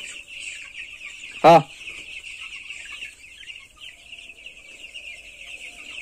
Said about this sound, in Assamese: একদম পুৰা লোকেল মুৰ্গী আনিছে